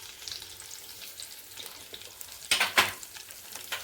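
Four or five curry leaves crackle and spit in hot oil for moong, a dense run of sharp pops that bursts loudest midway, then settles back into a steady sizzle with no voices.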